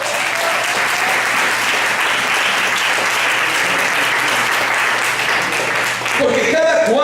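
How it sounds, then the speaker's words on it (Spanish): Sustained, loud applause from a church congregation fills nearly the whole stretch, dense and steady, then gives way near the end to a voice speaking. "Le damos un fuerte aplauso al Señor."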